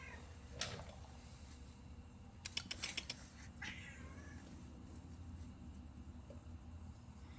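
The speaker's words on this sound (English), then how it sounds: "This cat's named Mia" A former stray cat gives a few short meows around a house, fairly faint and close, spread over quiet background hum with soft rustling between them.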